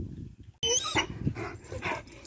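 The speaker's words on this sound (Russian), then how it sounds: "Да, я поглажу свою собаку." Dog whimpering and yipping excitedly at close range after a quiet start, short high whines in quick succession with soft snuffling between them.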